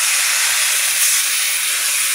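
Loud, steady sizzling hiss of steam as water hits a hot pan of cooking shrimp with ridge gourd, Malabar spinach and potato, seasoned with salt and turmeric, filling the whole moment with no voices.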